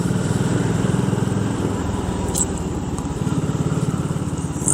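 A BSA Gold Star single-cylinder motorcycle running with its exhaust baffle removed, a steady, loud, close engine thrum with a fast, even pulse while riding, no talking.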